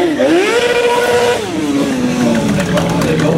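A Kawasaki ZX6R Ninja motorcycle engine revs hard at a season-ending motorcycle event, its loud, close pitch climbing, dipping and rising again through several sweeping throttle blips.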